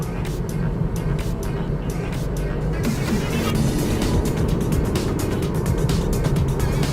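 A 2018 Mazda CX-3 1.5 XDL driving at speed: a steady, loud roar of road and wind noise with engine drone, someone talking over it throughout.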